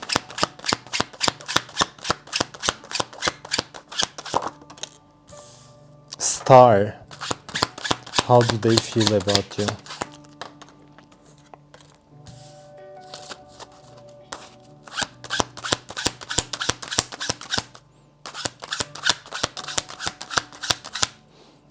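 Tarot cards shuffled and riffled in close, rapid bursts of crisp slapping clicks, pausing between runs while someone talks in between.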